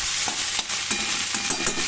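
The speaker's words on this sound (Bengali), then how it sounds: "পুঁই মিচুড়িগুলো দেওয়ার পরে সমস্ত জিনিসগুলোকে খুব ভালো করে নাড়াচাড়া করতে হবে" Chopped Malabar spinach stems being stirred in a frying pan, a steady sizzle under repeated scraping strokes of a spatula, close and fairly loud with no talking.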